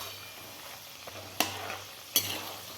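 Peanuts and urad dal fry for crispy chooda, a steady soft sizzle with a few sharp stirring clinks of a spoon against the pan, close and alone.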